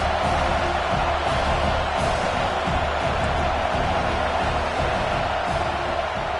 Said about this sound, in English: Oh, this crowd wants it.